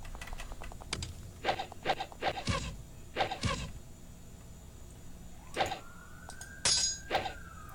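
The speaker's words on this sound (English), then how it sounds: "that's a really loud emergency siren." A distant emergency siren wails and rises faintly in the background while computer keys clatter in quick, irregular bursts nearby during a computer game.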